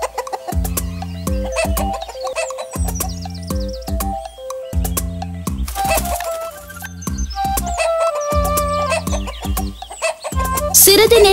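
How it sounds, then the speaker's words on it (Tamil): A rooster at the doorway of a hut crows and clucks repeatedly over a loud, rhythmic musical backing, with the calls recurring in close, bright bursts. "அதே நேரம் அவனது குடிசை வாசலில் ஒரு கோழி கூவும் சத்தத்தை அவன் கேட்டான்."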